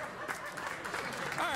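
Studio audience applause on a late-night talk show, a brief burst of clapping mixed with scattered chuckles and crowd murmur at moderate level.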